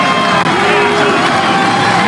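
A boxing arena crowd awaiting the judges' decision, a loud dense roar of many voices and cheers holding steady throughout.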